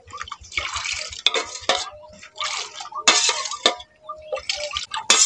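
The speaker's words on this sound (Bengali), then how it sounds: "এইরকম করে একটু নাড়াচাড়া করে ভালো করে ঠান্ডা করে নিতে হবে।" Milk being stirred in a pot to cool it gives off repeated wet swishing and sloshing strokes with light clinks of a spoon against the metal, close up and fairly loud, with brief quiet gaps between strokes.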